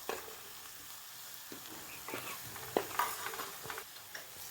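Onions sizzle in a frying pan as garam masala and spices are stirred in, a soft steady fry broken by scraping and light clinks of a spoon against the pan, quiet and close.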